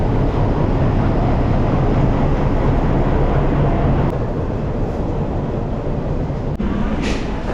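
The Maa Tara Express running, heard from inside an empty general compartment, a loud continuous rumble and rattle of wheels on track, steady throughout with a couple of sharp clicks.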